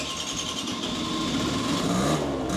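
An old 50cc two-stroke engine revived after 18 years of disuse runs with a high, buzzing, steady rattle, close up and continuous, with no voices.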